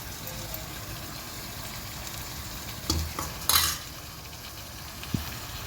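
Thick curd mixed with masala is stirred in a pan, a soft continuous scraping and gentle sizzle with a couple of brief utensil knocks, quiet and close.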